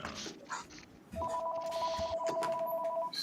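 A telephone rings with a steady electronic double-tone that starts after a moment and holds continuously, moderately close, over quiet room noise with a few small clicks.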